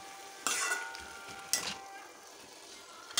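Food frying in a pan gives a quiet, soft sizzle, broken by a few brief scraping stirs close by.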